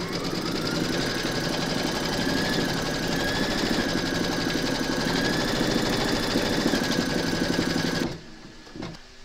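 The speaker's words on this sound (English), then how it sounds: "pop your hoop into your machine and stitch round number 3 to secure it" Embroidery machine stitching an appliqué in the hoop, a steady loud mechanical whirr with rapid needle rhythm running for about eight seconds before stopping abruptly, leaving a few faint clicks.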